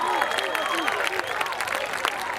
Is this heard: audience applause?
yes